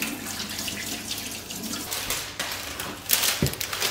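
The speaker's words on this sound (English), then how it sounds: "I'm just going to wash my hands again" Tap water runs steadily into a kitchen sink during hand washing while baking, a continuous close hiss with small splashes that swell slightly near the end.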